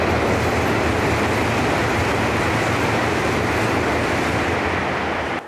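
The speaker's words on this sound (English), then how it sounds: "That was the bullet train, guys." A dense, steady rushing roar fills the whole stretch as a Japanese bullet train sweeps past close by in snow, with no voices.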